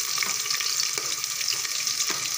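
Onions hit a hot pan for a potato and tomato curry, giving a steady, close, loud sizzle that hisses continuously without pause.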